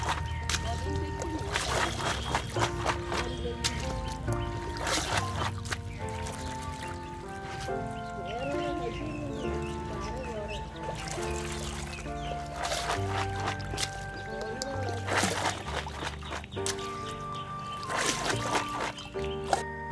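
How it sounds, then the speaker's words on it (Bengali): Cut vegetables washed by hand in a village pond in Bangladesh, with repeated splashing, sloshing and trickling water, close by, over rural background sounds with scattered birds. "এখন সুন্দর করে তরকারিগুলো ধুয়ে নিচ্ছি।"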